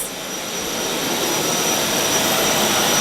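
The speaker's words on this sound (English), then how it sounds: "what you can hear in the background is Brad vacuuming the house" Vacuum cleaner running inside a house, a steady, loud rushing whine that swells slightly and holds for a few seconds, alone with no talk.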